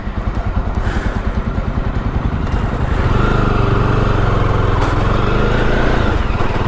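A Jawa Bobber 42 motorcycle, self-started while left in first gear, lurches and jerks: its engine pulses in a fast, uneven chug at first, then settles into a louder, steady running drone close by.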